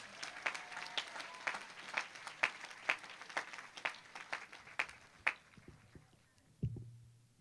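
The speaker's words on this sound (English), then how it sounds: "How about another round of applause for Dr. Julie Torres?" Applause from a graduation ceremony crowd, steady clapping that rises in bursts then dies away over several seconds, followed by a brief low thump near the end.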